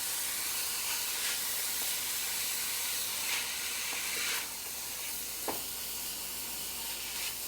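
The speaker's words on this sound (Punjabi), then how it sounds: "ਹਜੇ ਇਹਨੂੰ ਆਪਾਂ ਪਿਆਜ਼ ਨੂੰ ਭੁੰਨਣਾ ਹੈਗਾ ਤੇ ਸੌਫਟ ਕਰਨਾ ਹੈ" Onions frying in a pan for a Punjabi lamb curry, a loud continuous sizzle with steamy hiss and a few sharp spattering bursts, close and steady, no speech.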